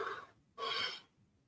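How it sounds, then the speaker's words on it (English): A person yawns on camera at a comic convention meetup, with a breathy inhale and then a louder, sustained open-mouthed exhale heard up close. "I get on camera and I yawn."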